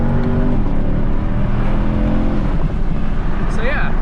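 A 2016-18 Chevrolet Camaro SS engine holds a steady, loud drone after a downshift to second gear at 50, then climbs in pitch near the end as the revs rise, with a voice over it.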